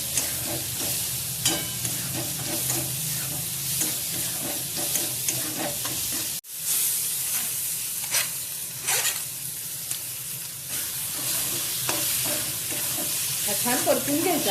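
Corn kernel pulp sautéing in a pan with salt, a steady soft sizzle and frying hiss with occasional stirring scrapes, close and continuous with no talk.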